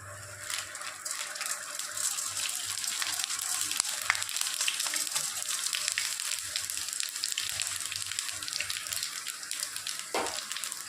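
Panch phoron spices sizzle in hot oil for tempering a Bengali pumpkin and pui shak dish, a steady close frying hiss with faint crackles.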